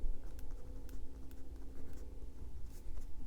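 A pen scratches across the paper of a reading journal as someone writes by hand, soft steady strokes up close with a low background hum.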